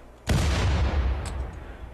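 A single loud explosion blows up a wall in RimWorld, with a sudden boom followed by a long, dense rumbling roar that slowly fades, plus a faint ping near the end.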